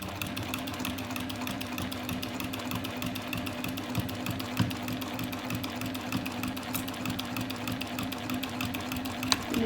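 Sewing machine running steadily and slowly while stitching a zippered sunglasses case near the zipper, a continuous close mechanical whir with rapid needle rhythm throughout, no talking.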